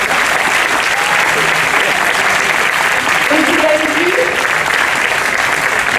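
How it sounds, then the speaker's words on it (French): An audience at a fashion event speech ceremony applauds the association's volunteers with loud, sustained clapping, and faint voices sound through the crowd noise. "si vous pouviez applaudir à tout rompre tous les membres bénévoles de cette magnifique association"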